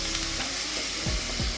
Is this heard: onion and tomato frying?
yes